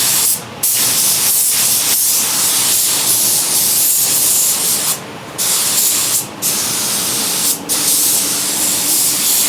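Spray gun laying light base coat paint on a Mitsubishi Evo 8 under rebuild, a loud continuous hiss broken by several short pauses between passes.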